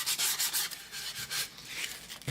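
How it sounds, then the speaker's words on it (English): A small, roughly 40-year-old mouse sander rasps against a wooden cutting board in repeated rough passes, a close, gritty rubbing that rises and falls without any talking. "this little mouse sander that I got probably about 40 years ago really does a good job"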